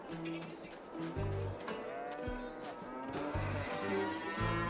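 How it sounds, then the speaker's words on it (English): Cows mooing repeatedly in a dairy farming video game, several overlapping low bellows coming one after another over steady ambient game sound, fairly loud and close. "we'll check on our cows, see how they're doing climbing on the mountain"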